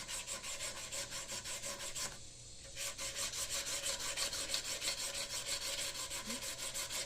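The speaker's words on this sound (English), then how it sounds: "Always do a cross sand." Rhythmic back-and-forth rasping of abrasive paper cross sanding a wooden pen blank, steady strokes close up with a brief pause midway, no talking.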